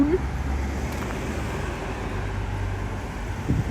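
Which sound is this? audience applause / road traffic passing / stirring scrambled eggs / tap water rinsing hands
road traffic passing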